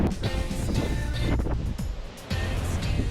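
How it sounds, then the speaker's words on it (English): Strong wind buffets the microphone at Big Sands Beach in Scotland, a continuous loud rushing roar with gusts, and surf washing faintly underneath. "Very, very windy, as you can probably hear"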